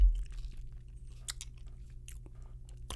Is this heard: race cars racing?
no